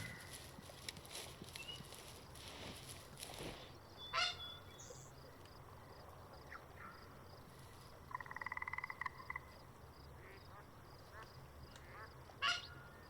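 Goose calls blown on a goose caller in the hunting video game Way of the Hunter, set in Transylvania: a few short honking bursts against faint outdoor ambience with frog-like croaks and distant bird noise, fairly quiet overall.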